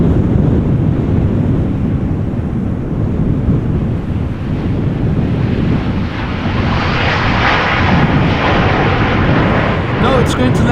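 A Coast Guard aircraft comes in to land at Amsterdam Schiphol Airport during a storm, its engine roar blending with heavy, constant wind buffeting the microphone for the whole stretch.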